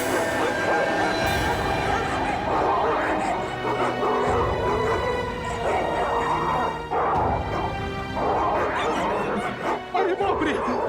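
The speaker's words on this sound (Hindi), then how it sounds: "कुत्तों के भौंकने की आवाज पीछे की तरफ से आ रही है" Several dogs barking behind a house at a crime scene in a TV crime drama, sounding dense and continuous amid background music and voices, with people talking over the barking throughout.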